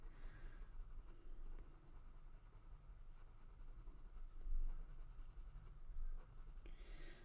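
Pencil drawing on smooth paper: a continuous soft, scratchy graphite hiss of steady strokes, close and quiet, with small swells in intensity as the shading goes on.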